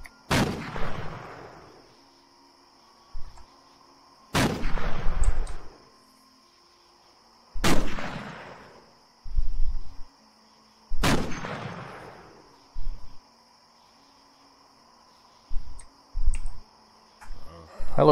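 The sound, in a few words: gunshots from the video game Cataclysm DDA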